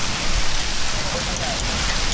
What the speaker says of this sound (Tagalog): Guys, umulan ng yelo.